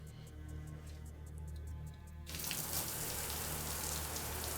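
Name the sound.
running shower water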